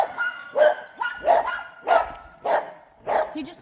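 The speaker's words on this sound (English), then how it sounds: "You hear them puppies?" Puppies bark on a farm in six or seven sharp, fairly close yips, repeated at a steady rhythm of about one every half second, with no talk over them.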